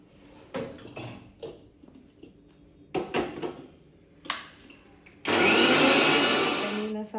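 Mixer grinder grinding sugar into fine powdered sugar: a few short bursts of whirring, then a loud continuous high-pitched grinding roar that runs steadily to the end, close by.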